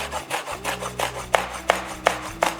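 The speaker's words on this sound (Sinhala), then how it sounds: "ඊට පස්සේ අවමිරිස් කරලත් මේක හීනියටම කපාගෙන යනවා" A knife chops green chilies very finely on a board for bitter gourd sambol, making a steady run of about eight crisp, close cutting strokes at a regular pace, with no talking.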